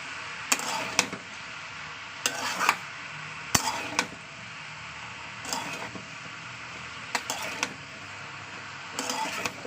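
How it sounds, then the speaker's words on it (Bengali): Salted food fries in a pan over a soft background sizzle, broken by about six short bursts of scraping and clattering as it is stirred. "এবার ভালো করে এটা ভাজা ভাজা করে নেবো।"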